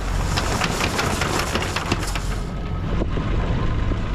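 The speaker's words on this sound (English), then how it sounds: "The last miles was to be done by engine." A sailboat motors under engine power along the Greenland coast among ice, its engine giving a steady, close, unbroken drone with no talk.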